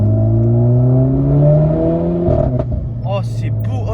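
Renault Clio 4 RS Cup with a full straight-pipe exhaust, revving loudly nearby as the engine note rises, then drops off into a burst of crackling pops and bangs on the overrun while voices talk over it.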